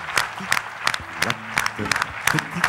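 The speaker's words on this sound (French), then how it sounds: "Je souhaiterais que nous manifestions notre pensée à Jean-Yves avec une minute d'applaudissement" An audience at an anniversary gathering claps in tribute, with scattered, uneven handclaps mixed with some nearby voices.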